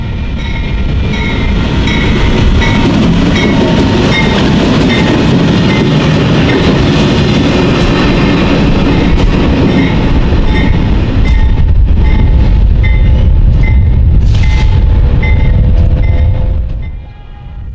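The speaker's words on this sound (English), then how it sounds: "we caught the light power of train MGLCHC 104A with a former Santa Fe-9 leading" BNSF freight locomotives pass close by, a former Santa Fe unit in the lead, producing a loud, sustained diesel roar and rail rumble with tonal engine hum that fades out at the end.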